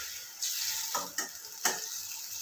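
Tomatoes sizzle in a hot pan over raised gas heat while drumstick curry is cooked, a soft steady frying hiss broken by a few scraping stirs.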